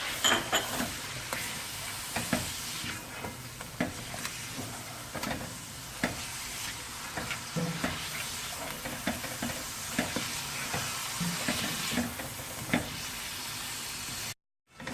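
Mutton chops with salt and black pepper fry in a covered karahi, giving a steady, close sizzle with scattered crackles and pops throughout, cutting out to silence at the very end.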